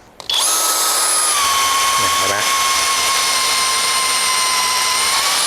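A TEH 120 Nm cordless impact drill whines steadily at high pitch while boring into steel, loud and close, with a brief low grinding rumble partway through.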